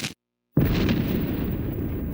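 Nuclear bomb detonation in Call of Duty Black Ops Cold War, a sudden heavy blast after a brief silence, swelling into a loud, sustained roaring rumble that fills the rest of the moment.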